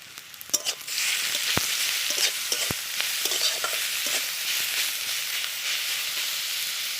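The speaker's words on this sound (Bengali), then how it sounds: "একটু কষিয়ে নেব।" Ginger-garlic paste and green chillies sautéing in a pan for a prawn and taro dish, a continuous near sizzle and hiss with a few sharp spatula clicks, no talking.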